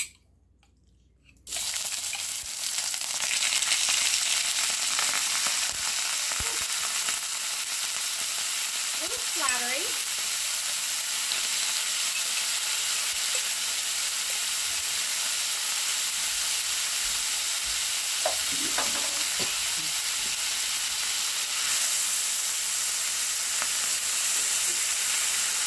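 Oil from a food bank jar sizzles and crackles steadily in a pan as food fries, loud and continuous after a brief quiet start, with occasional stirring scrapes.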